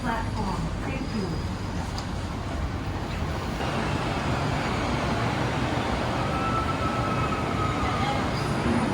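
A Bangkok metro train heading to Mo Chit station rumbles steadily along the track, a loud continuous roar with faint wheel squeal and people talking underneath.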